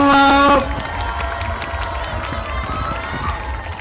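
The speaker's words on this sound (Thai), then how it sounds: "ขอเสียงปรบมือให้กับน้องๆอีกครั้งหนึ่งครับ" Audience applause and crowd noise for a student marching band at a contest during the King Mengrai festival in Chiang Rai, steady and fairly loud after a brief band note at the start, with some voices in the crowd.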